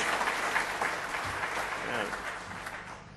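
An audience applauds steadily, a dense wash of clapping from a crowd that gradually thins toward the end.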